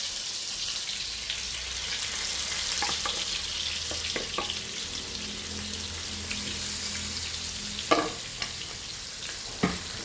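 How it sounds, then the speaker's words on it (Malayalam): Fish fries in a pan of oil with a steady, soft sizzle, joined by a few sharp clicks and knocks near the end. "മീൻ വറക്കാൻ വെച്ചു."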